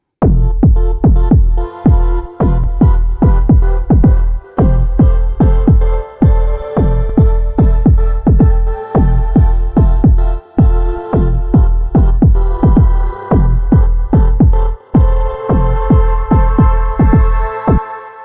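A loud, punchy drum beat loop with heavy kicks and snappy hits in a steady groove, layered over sustained synth pad chords in Logic Pro.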